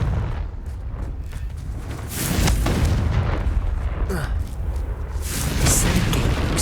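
A Confringo fire spell blast in the Hogwarts Legacy video game, heard as two loud, broad booming bursts about two and a half seconds apart over a steady low rumble of game sound.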